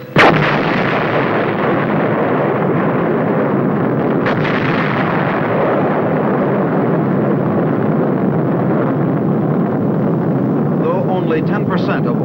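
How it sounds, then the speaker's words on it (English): A deep, sustained rumbling roar of an atomic bomb airburst seven miles away rolls on continuously, heavy and booming, with crackling bursts near the end. "Within 30 seconds will come the thunderous roar of the explosion 7 miles away."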